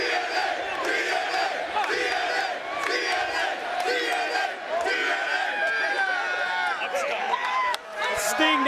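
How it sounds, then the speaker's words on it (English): Arena crowd at a professional wrestling event (Sting vs. Samoa Joe, Bound For Glory 2008) roars and shouts continuously, a loud dense wall of cheering and yelling that swells and dips slightly throughout. "you can hear the crowd as they appreciate it"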